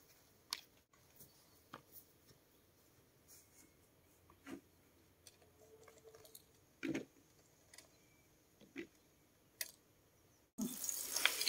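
Garlic chives are rinsed in water at a rural home kitchen sink, with scattered soft splashes and drips, then a steady running tap near the end.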